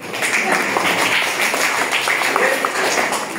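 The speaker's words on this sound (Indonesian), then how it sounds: "tepuk tangan dulu buat saya" A classroom group at a training open class in Mojokerto breaks into sustained applause, a dense, steady patter of clapping that holds at an even level throughout.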